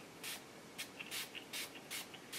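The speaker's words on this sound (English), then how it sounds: "I have one of Ranger's color wash sprays here." A Ranger color wash spray in a lettuce shade is spritzed onto a Kaisercraft wood flourish: five short, close, soft hissing bursts in quick, uneven rhythm, with no talking.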